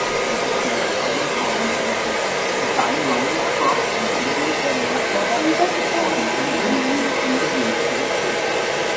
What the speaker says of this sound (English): you then lift the hair up to the ceiling and blow dry the underneath of the section